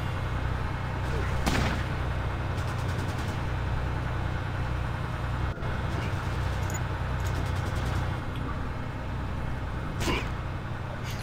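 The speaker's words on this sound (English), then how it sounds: "they're shooting at maximum range with LMGs, and I'm shooting with a sniper rifle" Gunfire from light machine guns and a sniper rifle in the Fallout Tactics video game: sharp shots around 1.5 and 10 seconds and a few quicker bursts, all over a steady low engine-like drone.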